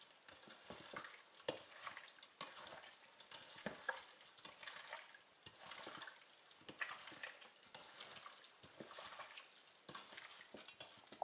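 Herring mixed with seasonings being stirred in a bowl, giving faint, repeated wet squelching and scraping strokes in an uneven rhythm, quiet and close with no voices.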